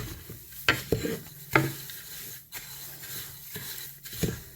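Dry loose leaf tea blend being stirred and tumbled by hand, a handful of soft rustling scrapes and light knocks at close range, with quiet pauses between and no talking.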